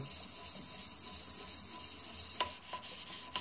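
A TSPROF KO3 sharpening system's 400-grit stone rubs along a knife blade, a steady close rasping scrape with a few sharper strokes near the end.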